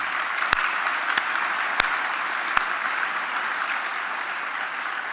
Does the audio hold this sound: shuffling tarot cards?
no